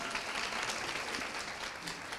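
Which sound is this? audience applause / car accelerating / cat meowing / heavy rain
audience applause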